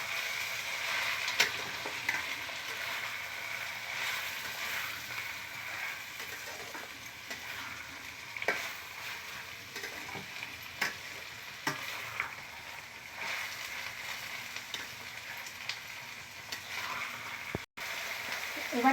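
Banana stem muri ghonto sizzling and frying in a pan while being stirred, a steady crackling hiss with intermittent scraping and clinks of the spatula.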